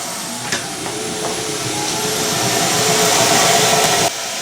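Morus C2 portable clothes dryer drying towels, starting up with a few clicks and then a loud steady whirring hum and hiss of air that builds slightly before cutting off abruptly.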